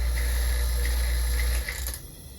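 A vacuum pump runs on a vacuum desiccator during a rapid chloride permeability test, a loud steady low drone with a faint rhythmic mechanical ticking that drops off and thins out near the end, as if being switched off.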